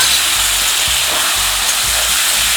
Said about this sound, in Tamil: அதுக்கப்புறம் இதில் வந்து உருளைக்கிழங்கு வறுத்துக்கலாம்.